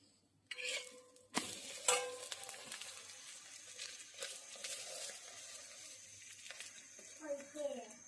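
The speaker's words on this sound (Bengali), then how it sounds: "ডিম ভেজে পেঁয়াজ দিয়ে কাঁচামরিচ দিয়ে ডিমটা ভেজে নিচ্ছি" Egg frying in a pan with onion and green chili, a soft sizzle running steadily beneath clattering utensil and stirring knocks, with a few sharper scrapes along the way.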